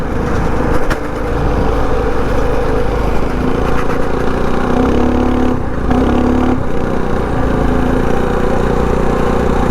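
A mini pit bike engine holds a steady loud drone under throttle while riding, close and continuous, with only slight changes in pitch and no talk.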